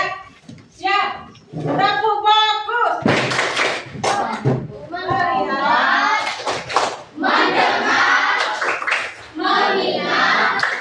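A school class in an Indonesian social studies lesson performs a rhythmic group clap, patterned bursts of many hands mixed with children's voices chanting along in time.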